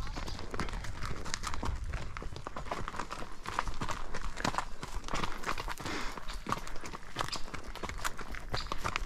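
Hooves thud and crunch in a steady walking rhythm over loose ground, close and continuous, with faint rustling around them.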